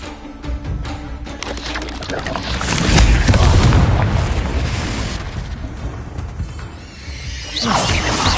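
A Confringo fire spell detonating in the Hogwarts Legacy video game, a loud booming burst that swells and rumbles for several seconds amid dense game effects.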